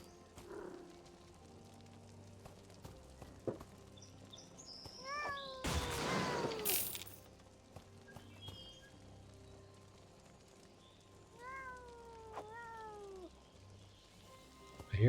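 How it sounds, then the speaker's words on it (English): A cat in a video game meows several times, clear rising-and-falling cries spaced out over soft background ambience, with a louder burst of noise in between. "I hear a cat."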